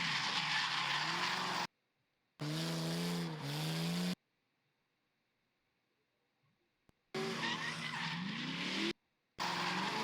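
A BMW spins its tyres with hot revs, loud bursts of engine roar and tyre screech in two long runs, a silent gap between them, then a final short burst.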